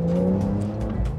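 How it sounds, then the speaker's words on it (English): A Porsche 992 Carrera T with a 3-liter twin-turbo engine downshifts, its engine tone dropping with a few popping exhaust kickbacks, heard up close from inside the car. "Do you hear that kickback?"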